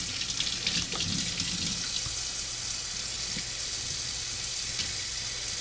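Running tap water rinsing the inside of a cleaned bluegill, a continuous close splashing hiss with a few faint knocks and handling noises near the start.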